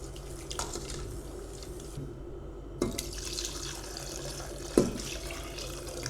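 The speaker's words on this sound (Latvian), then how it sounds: "Es domāju, ka es vienkārši liešu no katliņa." Sauce for a vegetarian mushroom and zucchini lasagna pours from a saucepan in a steady, close liquid stream, with two brief clinks of the pan partway through.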